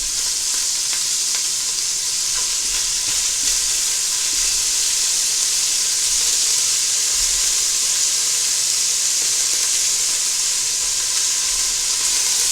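Beef chunks sear in a hot pot for an Appalachian beef and vegetable soup, giving a steady, loud, broadband sizzle and hiss that runs unbroken and close throughout, with no talking.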